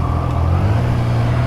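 Triumph Trident 660 motorcycle engine idling steadily, a low continuous rumble close by with no talk over it.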